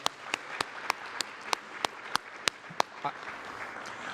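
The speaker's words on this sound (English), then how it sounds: "One more round of applause." Applause at an awards ceremony for diversity achievement, a slow, sparse run of evenly spaced single hand claps sounding close and sharp over a low room hum, trailing off near the end.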